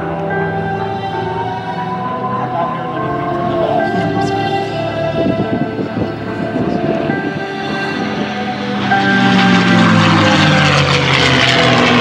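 A P-51 Mustang's Merlin engine, a 1,650 cubic inch 12-cylinder inline making just under 1,700 horsepower, drones steadily with a rich harmonic hum, swelling louder toward the end as it passes close.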